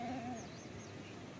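A black goat bleats once during a natural birth at a goat farm in Rawalpindi. The single short, wavering cry sounds at the start and fades into quiet farm background.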